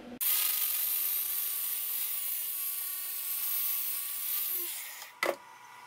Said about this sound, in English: back to the little lathe to touch up the edge